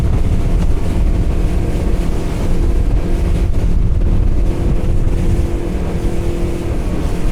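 A powerful outboard engine on a Highfield 560 Sport boat drones loud and steady during a high-speed turn, with wind buffeting and water rushing around it throughout.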